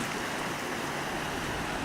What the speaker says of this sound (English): you can probably hear the creek running pretty good over there.